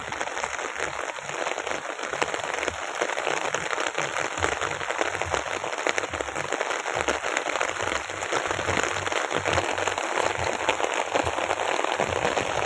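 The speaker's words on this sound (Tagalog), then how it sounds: "Ay, lumakas na may ulan." Heavy rain pours down over rice fields in a dense, steady roar that holds the same strength throughout, with no voices.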